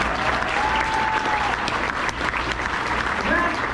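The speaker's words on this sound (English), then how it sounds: "give them a round of applause" An audience at a health care hall of fame awards ceremony gives sustained applause, a dense even roar of clapping with some voices audible underneath.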